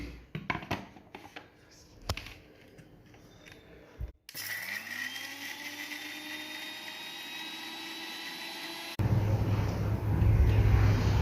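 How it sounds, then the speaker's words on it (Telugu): Mixer grinder blending green chillies with onion and cumin for chutney: first clicks and handling knocks, then a loud whirring motor that rises in pitch and runs steadily, then shifts to a rougher, harsher grind near the end. "ఆ పచ్చిమిర్చి అదంతా మిక్సీలో వేసి ఒకసారి మిక్సీ చేస్తే"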